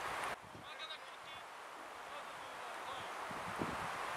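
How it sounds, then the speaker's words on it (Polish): Wind gusts roar and buffet the microphone at an outdoor amateur football match between Victoria Czadrów and Karkonosze II Jelenia Góra, a broad rushing noise that starts abruptly and keeps blowing steadily, with a few faint voices in the distance. "Przy tym wietrze."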